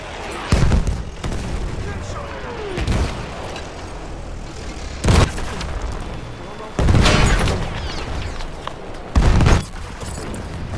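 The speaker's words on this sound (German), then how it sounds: "Ich werfe eine Granate." Several loud explosions go off in Battlefield 1 multiplayer, including a thrown grenade blast, four distinct booming bursts spaced a few seconds apart over a constant backdrop of distant gunfire and battle noise.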